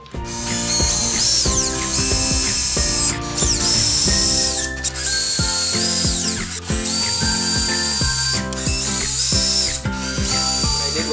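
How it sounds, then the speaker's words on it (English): A power drill drills a hole in the back of a 2015-2020 Subaru WRX/STI for side skirts, whirring continuously at high pitch, its motor rising and dipping in short bursts, loud and close, with no talking. "I'm gonna start off by drilling a hole onto the backside"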